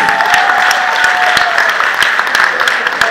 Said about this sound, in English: The round of applause for Jesus.